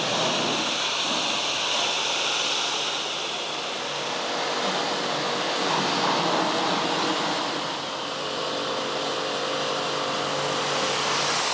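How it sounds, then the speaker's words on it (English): Water spray rinses down a heavily soiled, daily-driven BMW M3, a loud, unbroken rushing hiss that swells and eases slightly across its length with no talk. "Now just time for another rinse down."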